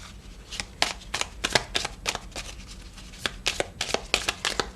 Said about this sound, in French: j'ai envie de battre les cartes par contre cette fois